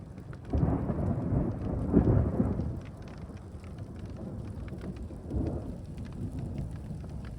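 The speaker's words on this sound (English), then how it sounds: "Probably hear the thunder." Thunder rolls across a valley in Croatia during a rainstorm, two deep rumbling swells rising over a steady hiss of falling rain, with a softer low rumble following later.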